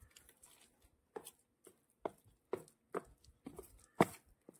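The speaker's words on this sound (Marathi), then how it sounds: "आता हे पूर्ण सारण फेटून घ्यायचं आहे" Urad, mung and chana dal vada batter with a pinch of soda being beaten by hand, giving a series of soft, irregular wet slaps and thuds, close and fairly quiet, with no talk.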